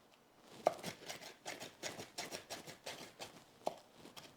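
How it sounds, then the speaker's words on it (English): A knife chops an onion finely on a cutting board, making a quick run of close, crisp taps in an uneven rhythm with a couple of sharper knocks, alone and fairly quiet. "I get those chopped up and that my onion, not worried about my garlic, but my onion is nice and fine"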